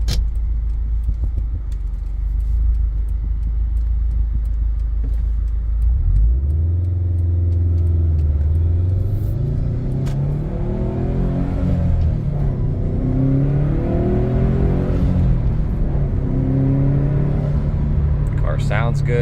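A 2014 Subaru Impreza WRX STI drives along with a steady engine rumble, revs rising and falling through gear changes, while a person talks over it.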